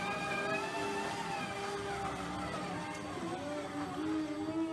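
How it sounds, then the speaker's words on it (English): A battery-operated mining machine runs with a rising and falling electric whine of several tonal layers over a low mechanical rumble, steady and fairly loud, with no talking. "You hear that electric whine"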